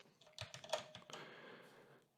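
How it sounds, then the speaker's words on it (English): Keys tapped on a computer keyboard, the plus and minus keys, in a quick run of about eight close clicks followed by a fading tail of room noise. "I'll do that on the plus and minus buttons on the keyboard."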